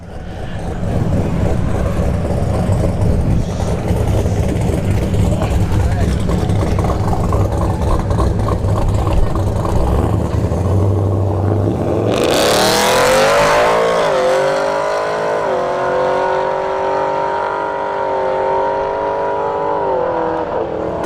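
A full bolt-on Camaro with a cam launches down a drag strip, its engine roaring loud and close, then pulling away as the pitch climbs through hard gear changes and fades under crowd and track ambience.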